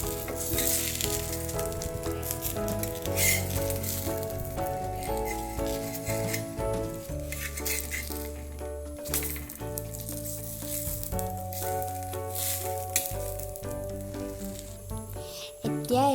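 Jackfruit pitha snacks fry in a pan with a continuous, loud sizzle and hiss throughout, and occasional clinks as they are turned and stirred.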